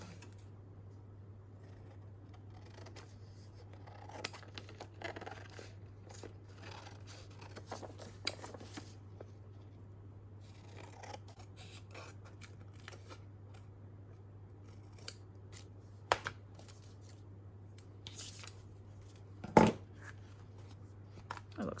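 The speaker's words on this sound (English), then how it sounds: "I'm just going to trim off the excess" Scissors trim excess paper off a scrapbook page in a string of quiet snips and short cuts, each cut close and crisp over a soft background hum, with one sharper snip near the end.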